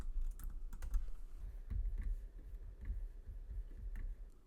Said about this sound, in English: First, I'm going to type in to, then I'm going to hit space and type in from.